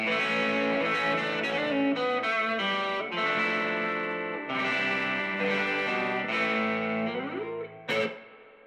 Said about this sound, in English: That's a neat distortion sound for that thing.